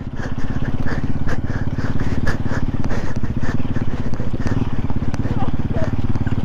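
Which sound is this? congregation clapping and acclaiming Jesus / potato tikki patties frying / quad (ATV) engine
quad (ATV) engine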